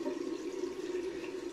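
Running tap water streams steadily as a shaving brush is rinsed under it, a constant close wash of sound with no talk.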